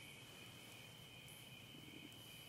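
Steady, high-pitched cricket chirping fills the background, continuous and fairly faint, with a low ambient rumble beneath.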